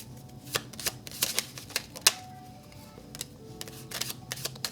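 Angel oracle cards are shuffled close by in a series of crisp, irregular riffling slaps and flicks, steady for several seconds and heard alone without talk.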